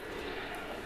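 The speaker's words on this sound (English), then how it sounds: "the police helicopter is buzzing around outside." A police helicopter buzzes around outside: a steady, muffled drone of rotor and engine noise heard from indoors, constant and moderately faint, with no talking.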